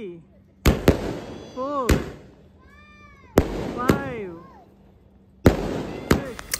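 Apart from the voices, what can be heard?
Deepavali firecrackers and fireworks bursting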